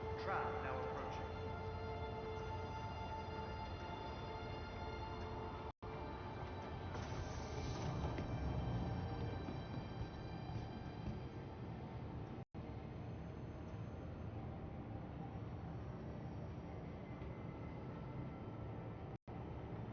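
A tram pulls into a station in the Star Citizen video game, with a steady mechanical rumble and hum running throughout and a voice announcement over it.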